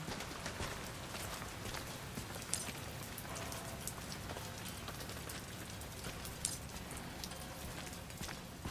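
Steady rain pours down in the survival horror game Resident Evil Requiem, a dense, even hiss that holds unbroken throughout, with a few faint sharper drips and taps rising above the wash.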